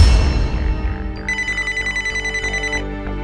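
A telephone rings with a rapid, trilling electronic bell pattern, loud and close, repeating steadily with no voices; a TV crime drama scene.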